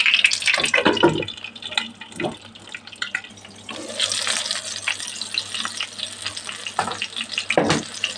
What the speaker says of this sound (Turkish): Önce patlıcanları kızartalım.